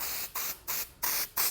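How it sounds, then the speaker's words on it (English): An aerosol haze can sprays in a studio, four short hissing bursts in a steady rhythm, close and fairly quiet with brief gaps between them. "I'm gonna use a little bit of this aerosol atmosphere. It's kind of like a haze machine in a can."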